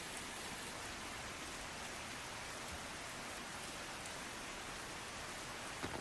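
Heavy monsoon rain pours down in Sion, Mumbai, making a dense, steady roar of rainfall that stays constant throughout, with no voices.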